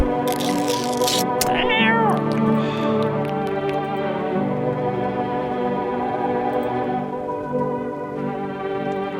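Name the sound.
cat meowing in a horror video game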